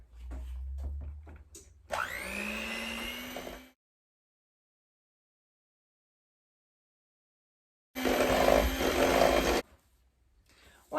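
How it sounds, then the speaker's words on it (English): Electric mixer beating spice cake batter made with water and eggs at medium speed, a loud whirring hum in two bursts separated by a stretch of silence. "I'm going to mix it for 2 minutes on medium speed."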